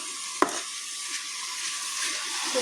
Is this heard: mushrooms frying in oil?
yes